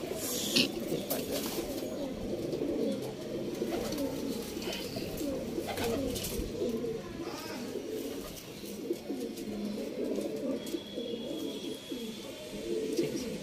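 A flock of racing pigeons in a backyard loft keeps up a continuous low rolling coo, many birds overlapping near and far, with faint chirps and light rustling.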